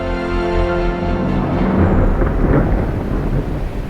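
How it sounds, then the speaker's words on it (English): Rain pours steadily over an English manor garden as a deep roll of thunder swells and rumbles through, loud and close, with no voices. "And so, it rained. And rained."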